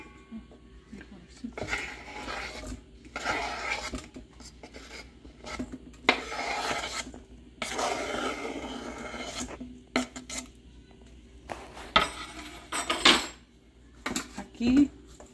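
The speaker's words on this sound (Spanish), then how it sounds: "Aquí ya tengo la fresa picada y la voy a vaciar en un tazón." Chopped strawberries are emptied into a bowl in bursts of close scraping and scooping as a utensil rubs against the dish, with short pauses between strokes.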